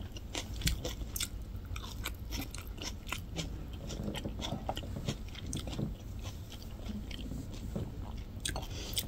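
Crunchy bites and chewing on raw native onion at a Korean food mukbang, close and steady with repeated sharp crunches across the whole stretch and no talk.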